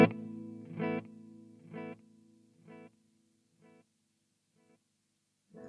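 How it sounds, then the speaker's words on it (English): Electric guitar played through the hi-fi delay setting on a Marshall MG50CFX amplifier: a chord rings out, then clean repeats step away evenly, each fainter than the last, with no talking. "So this is an idea of the hi-fi sound."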